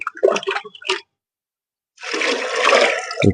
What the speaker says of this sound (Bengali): পাঁচ মগ নর্মাল জল মিশিয়ে দিলাম